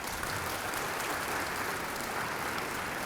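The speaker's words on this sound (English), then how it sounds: "I know who's clapping." An auditorium audience at a lecture claps in a dense, continuous patter, steady and moderately distant, with no voices over it.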